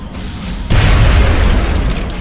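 A frag grenade detonates in XCOM Long War, a loud, close boom that hits suddenly after a quiet lead-in and rolls on as a heavy low rumble before tapering off.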